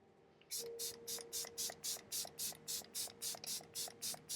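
A makeup setting spray bottle mists in quick, even bursts, about fourteen short hissing pumps in a steady rhythm, close up with no talking.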